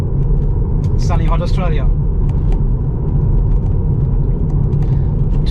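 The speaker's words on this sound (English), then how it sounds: "we are on the go again, driving the Teslander through sunny hot Australia" A Tesla electric car drives along a road in hot sunny Australia, giving a steady low tyre and road rumble from inside the cabin while someone talks over it.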